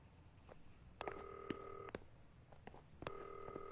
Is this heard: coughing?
no